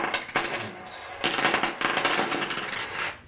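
Coins and arcade tokens drop and clatter onto a pile in several quick bursts, a close, bright metallic jingling that rises and fades over a few seconds.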